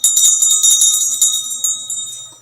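A bell rung repeatedly in quick succession, bright ringing tones that overlap and sustain, loud and close, with no talking.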